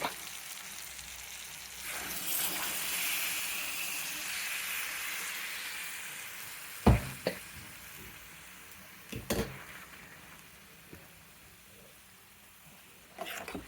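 Pieces of bitter gourd fry in a pan for masala, giving a steady, moderate sizzle throughout, broken by a few sharp clinks of a utensil against the pan.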